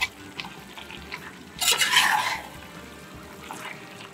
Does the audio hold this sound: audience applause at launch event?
no